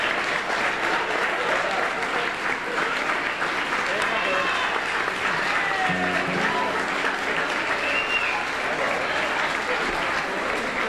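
Sustained, even audience applause filling the room for about eleven seconds, a dense wash of many hands with a few whistles and voices rising out of it.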